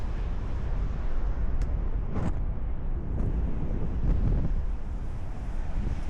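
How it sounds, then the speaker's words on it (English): Strong wind gusting steadily on a cold beach at Corolla, North Carolina, a dense low roar buffeting the microphone throughout, with no speech. "And yes, I was right about the wind."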